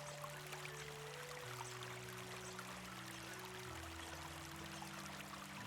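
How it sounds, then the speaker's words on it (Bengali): Mustard oil, about two spoonfuls, pours into a hot wok while making ghugni, giving a steady, close trickling and streaming sound that lasts throughout with no talking. "আমি এবার তেল দিয়ে দিচ্ছি, এখানে সর্ষের তেল।"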